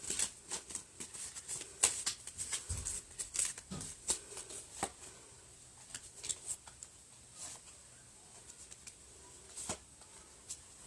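Soft, close card handling from a deck in a quiet ASMR setting, with light snaps, slides and taps scattered irregularly across the stretch and no talking.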